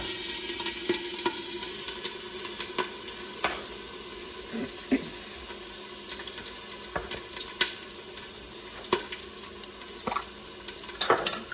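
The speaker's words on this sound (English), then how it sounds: "It's gonna sizzle" Onions sizzle and crackle steadily in a hot frying pan, with occasional scrapes and clicks of stirring, fairly close and moderately quiet.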